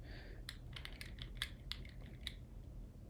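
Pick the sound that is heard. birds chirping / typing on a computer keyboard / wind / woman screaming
typing on a computer keyboard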